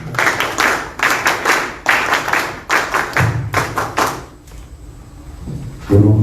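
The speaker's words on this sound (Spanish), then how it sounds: "Lo recibimos nuevamente con fuertes palmas." Applause from an audience at a forum on the armed forces and public security, a burst of clapping in uneven waves that thins out and dies away, followed by a low hum and a thump.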